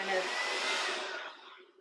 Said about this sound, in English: use the hair dryer and brush it up and back